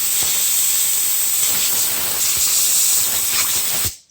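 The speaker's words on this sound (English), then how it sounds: "Compressed air." Compressed air blasts steadily through a fuel strainer screen from a Cummins engine, a loud continuous hiss lasting about four seconds before cutting off abruptly.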